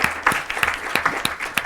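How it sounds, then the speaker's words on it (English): Audience clapping after a talk at a workshop session, distinct hand claps in a loose rhythm forming a moderate round of applause at close range, without speech. "please join me in a round of applause."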